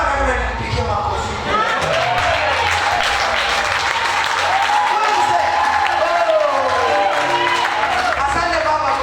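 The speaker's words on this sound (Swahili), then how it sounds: "Huyu simama reverend nipigie makofi." A church congregation applauds a reverend, the steady clapping rising and continuing while a voice speaks over it.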